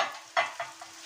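Bitter gourd and chana dal fry with green chillies, tomatoes, salt, turmeric and coriander in a handi, giving a close sizzle broken by three stirring scrapes that fade one after another.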